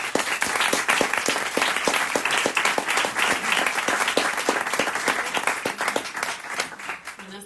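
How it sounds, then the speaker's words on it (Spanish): An audience at a literary event at Letras Corsarias gives strong, sustained applause, with individual claps standing out sharply in a continuous roar that eases slightly toward the end. "pedir por favor un fuerte aplauso para ella"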